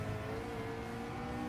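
A race car powers out of a corner at Trial Mountain in Gran Turismo 7, its engine a steady, loud, continuous drone with no talk over it.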